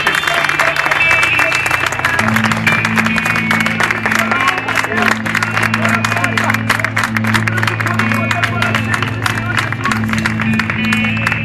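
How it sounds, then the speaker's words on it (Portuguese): Church congregation clapping for the worship team at a festive evening service, dense continuous applause under a steady sustained musical drone, with a voice audible over it. "Receba os irmãos com umas fortes palmas ao Senhor, querido."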